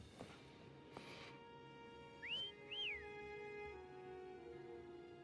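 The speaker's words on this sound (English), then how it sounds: "Try whistling." Two short two-tone whistles, one rising and one rising then falling, call a horse in a video game, sounding clear but fairly soft over a quiet game ambience.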